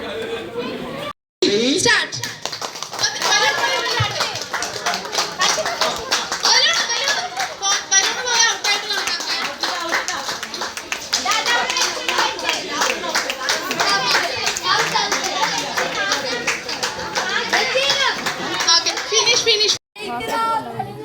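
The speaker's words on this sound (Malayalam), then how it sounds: "രണ്ടാമത്തെ ടീമുകൾ ഒന്ന് കൈയടിച്ച എവിടെ" A crowd at an Onam celebration claps for the second-place team, with a dense, sustained patter of applause running nearly the whole time, mixed with lively children's voices and chatter.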